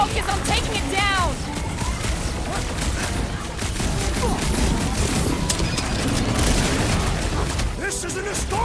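Heavy sustained gunfire from the Guardians of the Galaxy video game, aimed at a big robot, with booms and crashes in a dense, loud battle mix under in-game voices.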